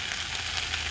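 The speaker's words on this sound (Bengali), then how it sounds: "আর এইদিকে দেখো ঢেঁড়স ভাজা হচ্ছে" Okra frying in a pan, a close, steady sizzle that holds at an even level for the brief moment, with no voices over it.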